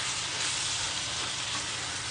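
Garlic and onion sautéing in hot oil in a pan, a steady, dense sizzle that stays even and close throughout, with no talking.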